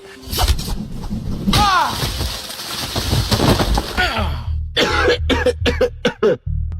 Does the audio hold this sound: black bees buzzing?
no